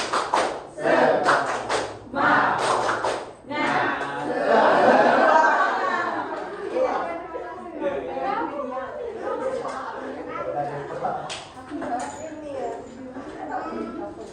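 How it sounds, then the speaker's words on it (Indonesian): A school class does a rhythmic spirit clap in unison, sharp repeated claps in quick bursts at the start, then giving way to chatter, chuckles and murmuring voices around the room. "Tepuk semangat."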